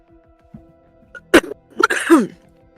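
A single sharp human sneeze, close and fairly loud, with a quick gasping intake and burst, over a faint steady background hum.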